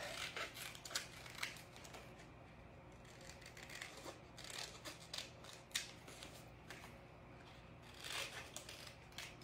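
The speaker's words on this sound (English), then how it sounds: "So I'm gonna just trim this up." Scissors trimming stencil material, a series of quiet close snips and crisp paper-like cuts in irregular bursts, with no talking.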